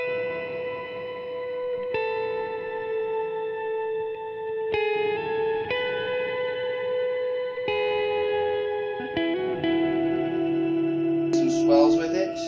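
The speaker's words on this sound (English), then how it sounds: "This is just a really spacey reverb with octave kind of tone in it." An electric guitar played through the reverb of an M5 effects pedal rings out in sustained chords with a spacey, shimmering octave tone, each chord blooming into long washes of echo, with a brighter swell at the end.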